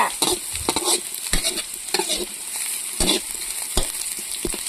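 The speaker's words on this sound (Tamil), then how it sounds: "வெங்காயம்லாம் நல்லா செவக்க வணக்கணுங்க" Onions frying in a pan for chicken curry, with a constant hissing sizzle and brisk, regular spatula stirs scraping the pan, close and loud, no voices.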